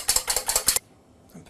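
A wire whisk beating two eggs in a bowl for an omelette, a quick burst of about six sharp rhythmic clinks against the bowl that stops abruptly, followed by near silence.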